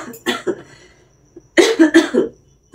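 A woman coughs in two clusters of harsh bursts, a short pair near the start and a louder, rougher run after a brief pause, close and clear.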